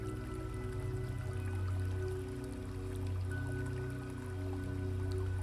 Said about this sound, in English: you can still hear the distant murmur of the glowing river, steady and peaceful